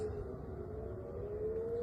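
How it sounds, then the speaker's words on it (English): An air raid siren wails in Israel as a steady, sustained tone drifting slowly in pitch, heard from a distance over a low rumbling background. "When you hear the air raid sirens going off"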